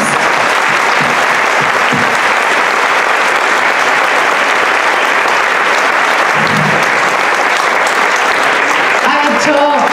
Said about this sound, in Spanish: necesito un aplauso para él